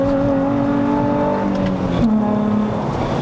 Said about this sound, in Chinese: 我现在一点点油门，3号牙都 spin 呢